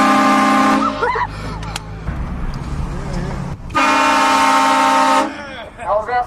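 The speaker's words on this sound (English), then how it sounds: "How's that for a honk?" A vehicle horn gives two long, loud, sustained blasts separated by a short gap, with people talking excitedly in between.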